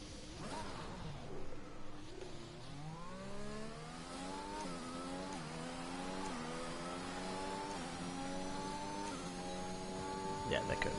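Race car in a racing video game, engine revving up through rising gear sweeps while the rear tyres spin, steady and prominent with a person talking over it.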